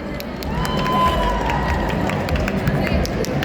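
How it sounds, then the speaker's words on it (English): A crowd at a pin-up contest cheers and claps steadily, a dense roar of many voices with applause, loud and continuous throughout. "Give them a round of applause."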